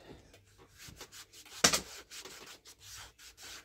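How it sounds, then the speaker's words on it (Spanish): Quiet rubbing and wiping strokes on a sanded shoe sole being cleaned with thinner, soft and intermittent, with one brief louder scrape in the middle. "La limpiamos con diluyente."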